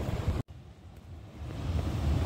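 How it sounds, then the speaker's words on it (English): Strong wind buffets the microphone at the seashore at Shad Bay, a continuous low roar with surf rumbling underneath and a brief dropout early on. "The wind is pumping."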